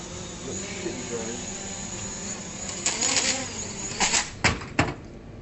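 A small, lightweight drone buzzes erratically while out of control, its whine rising and falling near the microphone, with a few sharp bursts toward the end as a person talks over it.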